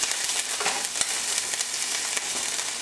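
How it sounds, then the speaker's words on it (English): Chicken frying in spattering oil in a pan, a loud dense crackling sizzle with frequent sharp pops, continuous and close throughout. "Let your chicken cook. Getting a little crazy in there. See all that oil splattering up?"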